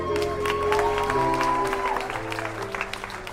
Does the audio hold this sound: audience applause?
yes